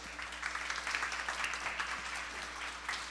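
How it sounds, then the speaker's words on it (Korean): Audience applause fills a hall at a live Seoul maker event as an artist is welcomed to the stage, a steady dense wash of many hands clapping with no voices over it. "박수로 맞이해 주십시오."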